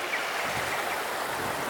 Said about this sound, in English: There's literally a river.